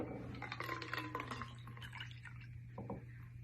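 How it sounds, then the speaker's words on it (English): A Boulevardier cocktail strained into a rocks glass, with a thin trickle of liquid and faint clinks of ice and glass running for a few seconds over a steady low hum. "Then we're going to strain it into a rocks glass."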